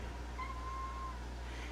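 A small cat gives one faint, thin, high squeak, soft and brief, over a quiet indoor background.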